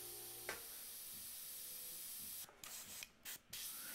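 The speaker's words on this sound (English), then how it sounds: "I'm just making sure that the paint continues to spray smoothly." Spray paint hisses from an aerosol can onto a portrait painting, a steady continuous spray at close range with a brief click near the start and a few short bursts and pauses toward the end.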